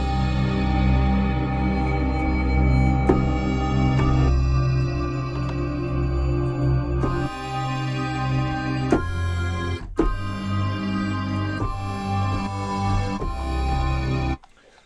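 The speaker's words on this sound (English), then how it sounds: "And we have a pad sound now." A Korg wavestate synth pad built on the busy Shady Cove sample plays sustained layered chords, shifting every few seconds with rich overtones, moderately loud and without any voice.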